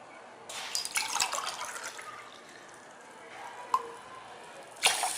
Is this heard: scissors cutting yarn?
no